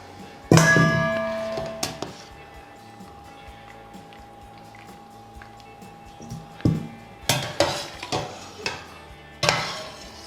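Boiled beef tails are lifted out of a metal pot in a kitchen, with a sharp ringing clang early on, then scattered metallic knocks and clatters of pots, close and moderately loud amid quiet.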